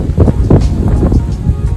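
Strong wind buffets the microphone at a hillside zip line in Zlatibor, Serbia, with loud, gusty low rumbling in uneven bursts.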